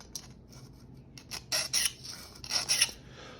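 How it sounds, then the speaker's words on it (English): A metal file rasps across the bevel of a Simmons broadhead in a few short, close strokes, each a bright scraping burst, with quiet gaps between them. "I'm going to show you what happens when I hit this with this file"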